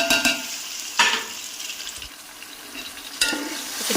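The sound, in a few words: garlic ginger paste frying in ghee with browned onions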